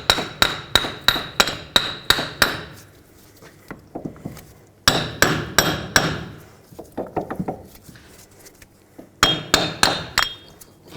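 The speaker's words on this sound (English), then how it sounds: "Now take a hammer and hammer the wheel bearing side to side, top and bottom." A hammer knocks an old front wheel bearing out of a 2007-2009 Saturn Aura, sharp metallic blows in quick bursts of several strikes separated by short pauses, close and loud.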